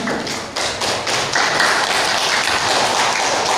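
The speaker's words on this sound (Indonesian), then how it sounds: "Tepuk tangan." Students and audience applauding at an Indonesian school project event, starting with a few scattered claps that quickly swell into a loud, sustained round of clapping close by.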